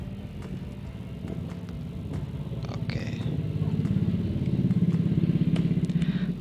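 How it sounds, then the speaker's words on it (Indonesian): Steady traffic noise, mostly motorcycles and cars, rumbling past a house close to the road, a continuous low engine drone that grows slightly louder toward the end with faint clattering. "di sini ada banyak suara kendaraan karena memang rumah saya dekat dengan jalan"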